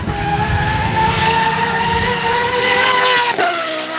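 Judd V10 powered Formula Toyota Supra race car roaring loudly and steadily at high revs, a dense sustained engine howl with a brief dip near the end, no talk.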